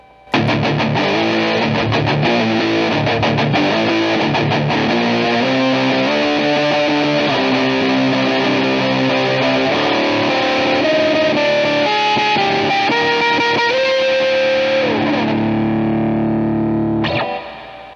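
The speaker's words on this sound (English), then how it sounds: "Overall, it already seems like it's just a great distortion." Electric guitar through a Behringer Ultra Metal UM300 distortion pedal, a plastic-housed metal box, playing a loud, saturated looped riff of sustained chords and single notes that rings out for about seventeen seconds before cutting off, with no voice.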